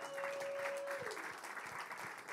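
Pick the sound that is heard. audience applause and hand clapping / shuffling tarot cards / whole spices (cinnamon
audience applause and hand clapping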